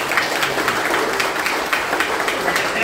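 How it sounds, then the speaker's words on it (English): Applause for delegates at a sports parade ceremony, a steady wash of clapping from a crowd that holds at an even level throughout without voices rising above it. "Please give a round of applause to all the delegates."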